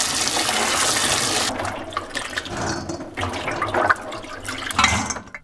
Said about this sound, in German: Jetzt werden die Hagebutten gewaschen